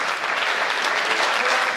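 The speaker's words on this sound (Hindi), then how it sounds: "बढ़ाओ ताली" An audience at a Hindi poetry recital claps steadily, a dense, even wash of applause lasting under two seconds.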